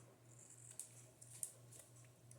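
Scissors make a few quick, light snips through thin magazine paper, close and soft over a quiet room.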